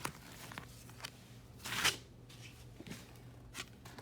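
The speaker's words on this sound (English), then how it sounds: "I'm gonna pick one of these tea leaf cards." A quick papery tea leaf card slide from a pre-shuffled deck with a short crisp burst, followed by a few faint taps and rustles in a quiet room.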